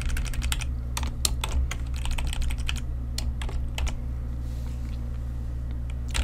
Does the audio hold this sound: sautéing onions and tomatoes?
no